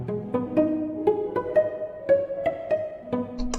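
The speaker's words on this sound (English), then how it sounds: "It's kind of like a reverse delay effect almost." Solo strings from a sample library play a quick run of short, bowed notes, each followed by a swelling ambient reverb tail that resembles a reverse delay.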